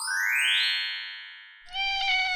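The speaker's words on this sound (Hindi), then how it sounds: "बिल्ली का बच्चा भूखा लगता है" A cartoon kitten gives a long, high rising-and-falling meow followed by a second shorter, harmonic-rich mew, loud and close with no talking.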